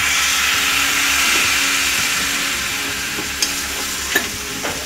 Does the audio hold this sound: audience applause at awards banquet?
no